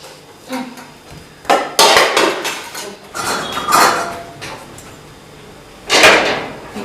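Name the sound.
placing a metal kadhai (wok) on the stove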